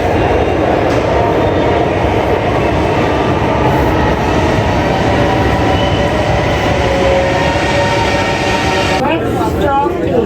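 A Lahore Orange Line metro train pulls into a station, a loud, continuous rumble and rolling hum close by, ending in a brief squeal or rattle. Station noise and talk run underneath.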